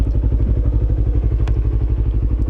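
A motorcycle with glued-back fairings, on its first ride after a low-side crash, drums along at close range. Its engine pulses steadily and evenly with a fast, thumping rhythm, and a couple of faint clicks sound briefly.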